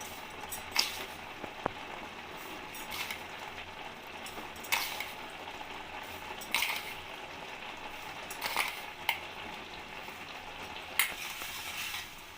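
Sugar and grated coconut are stirred in a pan for a sweet pitha filling, with soft continuous crackle and regular scraping sweeps of a spoon every couple of seconds, quiet and close, no talking.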